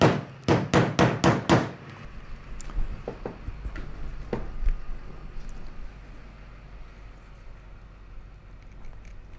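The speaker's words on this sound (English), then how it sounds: "I use this dead blow hammer" A dead blow hammer strikes a glued leather holster resting on a small shop anvil, landing five quick, evenly spaced thuds up close. A few faint workshop knocks and clatters follow.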